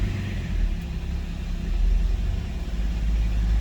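A 2010 BMW X3 with the M57 diesel engine and automatic gearbox, 267,000 km on it, idling steadily with a low, even rumble and no talk.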